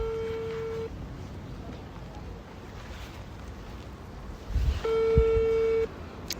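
A phone call's ringback tone sounds in two steady bursts of about a second each, separated by a long pause, over a windy outdoor background.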